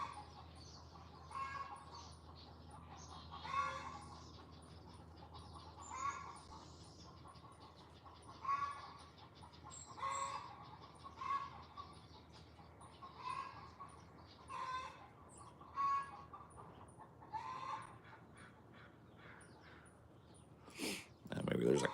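Neighborhood chickens cluck faintly and intermittently in a rainforest setting, with soft, scattered bursts over quiet background noise and people talking.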